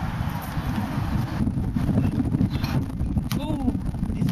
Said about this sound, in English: Oh, it's too windy, isn't it?